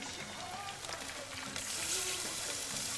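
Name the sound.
water being poured into a pot of lentils and onion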